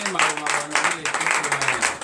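A congregation at a morning prayer service in Benin applauds in a steady, dense patter of hand claps, fairly close and continuous, with a voice speaking over the clapping.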